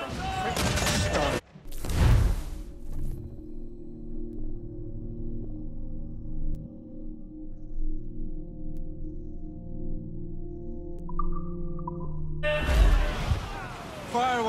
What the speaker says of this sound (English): Fire what cannons you will, and land a few.